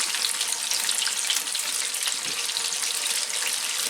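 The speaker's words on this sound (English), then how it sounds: "I want to take all my nuggets and drop them back into the oil" Beer-battered chicken nuggets dropped back into hot oil for a second deep fry give a steady, loud sizzle with dense crackling and bubbling that continues throughout.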